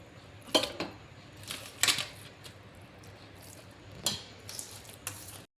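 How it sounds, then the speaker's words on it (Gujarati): Dry mengi rice tipped into a cooking pot in a home kitchen, heard as several brief clattering rattles and clinks against the metal, spaced out over a low background with no talking. "તો હાલો આપણે નાખી દઈએ આપણે ભાત."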